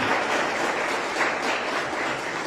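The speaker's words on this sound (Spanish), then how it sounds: "brindarle un fuerte y bonito aplauso al Cristo de la gloria" A church congregation gives Christ a strong round of applause during a service, with loud, continuous massed clapping that stays full and even throughout.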